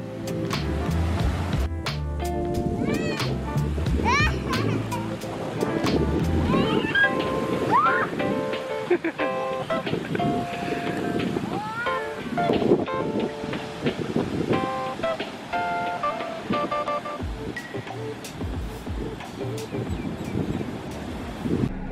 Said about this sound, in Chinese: 因为今天的风稍微有点大， 海边特别吵